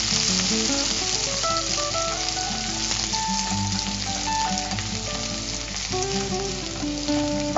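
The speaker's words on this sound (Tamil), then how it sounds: "நல்லா வறுபடணும் பூண்டு." Crushed garlic fries in hot oil for capsicum pulao, giving a loud, even, continuous sizzle close by, with occasional light stirring scrapes and no talking.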